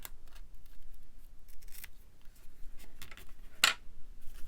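Scissors trim the paper edge of a handmade fold mini journal, giving a single sharp close snip after quieter faint paper rustles and small taps.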